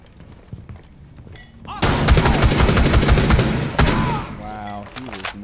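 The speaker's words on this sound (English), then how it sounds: "They're shooting it randomly now." Enemy gunfire in Rainbow Six Siege erupts into a loud, sustained automatic volley lasting a couple of seconds, with players talking before and after.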